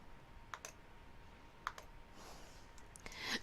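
A few crisp mouse clicks tap out separately in a quiet room, close and sharp, while copying a shareable link from a Google document.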